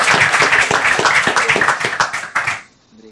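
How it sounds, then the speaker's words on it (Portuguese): Applause for a presenter at a medical conference on thoracoabdominal aortic disease, a loud burst of clapping from a nearby audience that fades out at the end. "E palmas para o doutor Eric"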